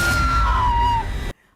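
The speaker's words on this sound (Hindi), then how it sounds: "एक जोर की चीख की आवाज आती है" A loud, shrill scream in a Hindi-Urdu drama, a single sustained cry with a wavering pitch that slides downward, lasting about a second before cutting off abruptly into silence.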